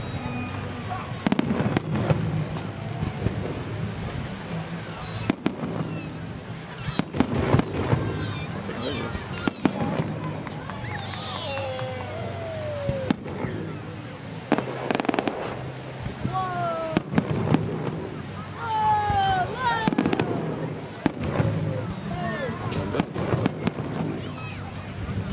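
Fireworks burst and crackle between buildings, the repeated bangs echoing sharply off the walls amid whistling rockets, while people talk and exclaim over the explosions throughout.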